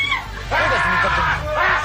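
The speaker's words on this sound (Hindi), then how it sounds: "चीखती हुए आई" A Japanese woman contestant on the Takeshi's Castle obstacle game show lets out high, shrill screams over a noisy crowd and voice-over babble.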